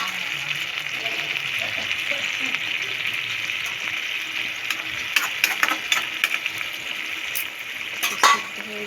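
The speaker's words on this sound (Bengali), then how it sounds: "এবার আমি অল্প পরিমাণে একটু জল দেবো, সিদ্ধ হয়ে যাবে।" Chicken bones fry in a hot pan with potatoes set aside. A steady, loud sizzle runs throughout, then a series of sharper crackles and spits breaks in near the end. No one speaks.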